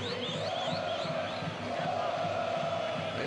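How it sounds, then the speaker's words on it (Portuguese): A large crowd of Botafogo supporters chanting steadily in the Anacleto Campanella stadium during a Série D match against São Caetano, a continuous distant roar of voices with a commentator talking over it. "Torcida do Botafogo canta muito, né?"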